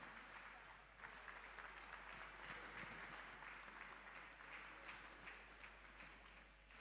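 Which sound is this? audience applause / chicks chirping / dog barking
audience applause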